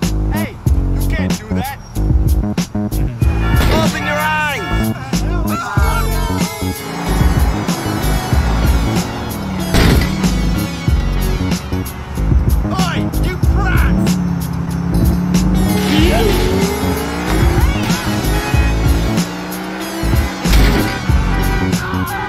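Niko's car in GTA 4 crashing repeatedly, with revving engines, squealing tires and sharp impact thuds, loud and busy throughout, under excited talk.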